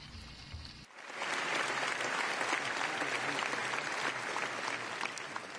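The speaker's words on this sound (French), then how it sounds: "De grands applaudissements pour les membres du Fonds Surrey." Audience applause at the 2016 Conservative party convention rises suddenly after a quieter opening second, then holds as a loud, dense, steady wash of many clapping hands until the end.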